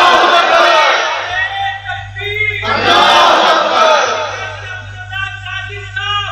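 A large crowd shouts a slogan in unison, two loud chanted bursts with a pause between them, followed by a fainter tonal tail and a low steady hum underneath.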